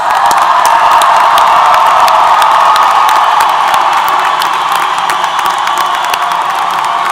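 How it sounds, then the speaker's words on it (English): A large commencement crowd at Texas A&M University-Corpus Christi gives the standing graduates loud, roaring applause mixed with cheers and whoops, a dense, unbroken wall of sound throughout. "let's give them a roaring round of applause"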